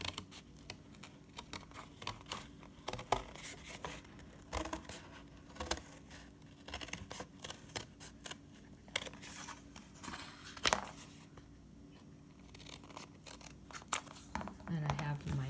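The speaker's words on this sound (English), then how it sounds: "I'm going to go ahead and cut that. With my scissors, here I go." Repeated crisp snipping and paper rustling, close up, with irregular cuts and crinkles continuing throughout, under occasional speech.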